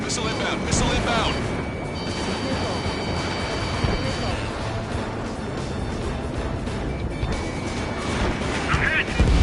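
A missile slamming into the player's jet in Ace Combat 7, loud crashing impact amid roaring aircraft engine noise and dense combat rumble, with radio voices talking over the action.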